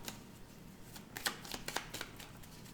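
Tarot cards being shuffled and cut by hand, a run of close, crisp riffling flutters and soft slaps in quick irregular bursts, with no talking.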